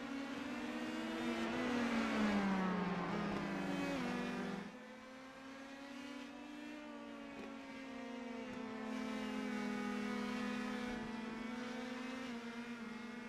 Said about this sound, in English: I believe we have one more car coming around to complete their final lap